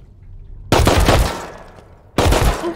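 Two loud bursts of gunfire in the video game Rust, each a sudden close blast with rapid follow-up crackle, separated by about a second and a half.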